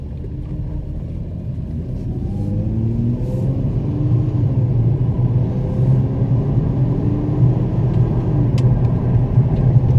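Mercedes car accelerating on an open road after a transmission repair, a steady engine rumble climbing through rising revs with several smooth gear shifts, heard from inside the cabin without talk.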